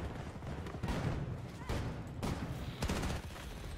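Bursts of rapid gunfire in a first-person shooter video game firefight, with loud, close clusters of shots repeating over a few seconds amid the game's noisy battle ambience.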